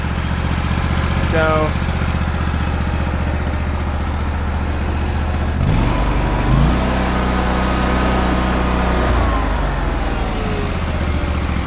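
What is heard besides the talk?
Kohler engine idling on an Exmark Lazer Z mower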